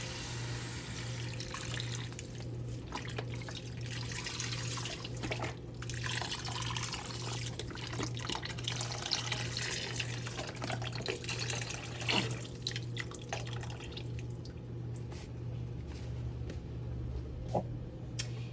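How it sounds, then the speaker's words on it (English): Chicken broth pours into a cooking pot with smoked meat for black-eyed peas, a steady continuous liquid splashing and trickling throughout, fairly soft and close, with no talking. "Then you want to add in your chicken broth."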